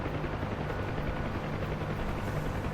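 A helicopter in a video game drones steadily with a continuous rotor thrum, loud and close throughout.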